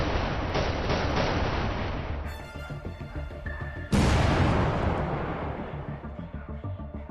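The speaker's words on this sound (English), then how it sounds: "a few missiles slip through the defenses to strike runway infrastructure" Missile strikes hit an airbase runway in a battle scene, with heavy booming blasts, crackling debris and a sharp loud impact midway, then rumble fading into rapid mechanical rattling.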